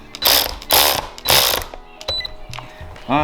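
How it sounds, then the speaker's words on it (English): An electric wrench works on the power steering rack of a Jaguar XJ6, firing three loud, short whirring bursts followed by softer mechanical clicks and ratcheting sounds. "I'm gonna try to use the electric wrench to see if it goes in nice and easy."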